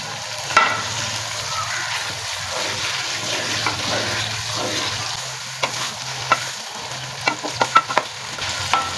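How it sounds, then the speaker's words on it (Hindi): Meat being stirred and roasted (bhuna) on low heat, a soft continuous sizzle with scattered sharp scrapes and clinks of a spoon against the pan, growing busier toward the end. "गोश्त भी हम हल्की आंच पे जो है ना बुनाई करेंगे इसकी"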